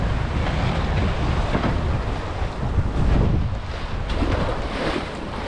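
Choppy sea slaps against a sailing boat off the East Australian coast near Little Black Reef, a steady broadband wash of water and wind buffeting the microphone throughout, loud and close, with surges around the middle.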